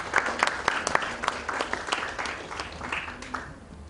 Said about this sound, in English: I request all of you to please welcome sir with a round of applause.